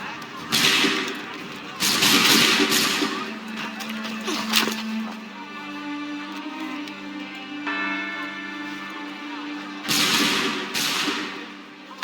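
Musket volleys from soldiers at the Boston Massacre in Assassin's Creed 3 Remastered, coming as several loud crackling bursts separated by quieter stretches of voices and ambient tones.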